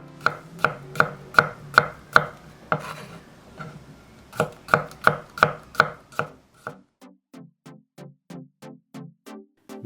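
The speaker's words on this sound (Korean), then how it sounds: "통마늘 5개는 얇게 슬라이스" A knife thinly slicing five whole garlic cloves on a cutting board, crisp rhythmic chops in quick bursts with a short pause, then lighter, softer taps trailing off.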